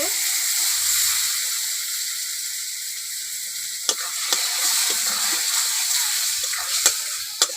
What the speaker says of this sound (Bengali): সামান্য জল দিলাম মশলা যাতে না পুড়ে